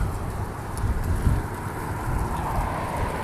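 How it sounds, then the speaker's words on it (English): Steady, strong wind in Minneapolis roars and buffets continuously, with rumbling gusts hitting close up and no voices. "it's really windy right now"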